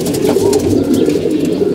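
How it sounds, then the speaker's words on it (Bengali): Several pigeons coo in a steady, overlapping murmur close by, low throaty calls rolling continuously with no voices over them. "কিছু কবুতর একটু ডিস্টার্ব আছে"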